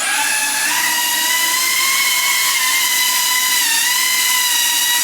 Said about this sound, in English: if we hit arm now, motor start, we're in angle mode